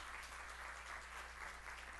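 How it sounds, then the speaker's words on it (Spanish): An auditorium audience applauds at a cultural centre event, a faint, even patter of many hands clapping steadily without a break. "para quien también pedimos un fuerte aplauso"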